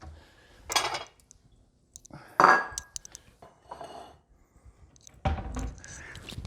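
Kitchen plates and dishes clatter and clink in a few separate knocks and scrapes, with one bright ringing chime and quiet gaps between the handling sounds.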